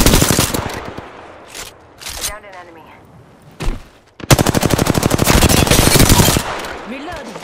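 Automatic weapon fire in Apex Legends: a few scattered shots and short bursts, then a loud, sustained rapid-fire volley lasting about two seconds before it tapers off, with faint voice-like sounds in between.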